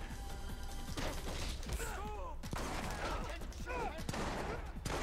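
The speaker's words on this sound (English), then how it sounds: "A fight scene in the middle of being fired on with guns." Gunfire crackles through a fight scene in the video game The Bourne Conspiracy, rapid bursts of shots mixed with crashes and clanks under a continuous game soundtrack.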